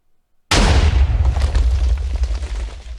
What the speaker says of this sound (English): That is all you need to make your very own sand TNT cannon.